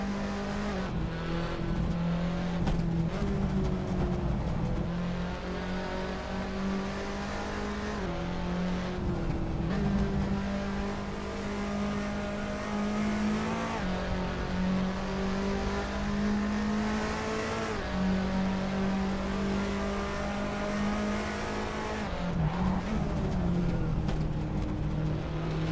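Super GT race car engines drone and rev continuously in a racing video game, loud steady engine tones rising and shifting in pitch through gear changes, with no talking.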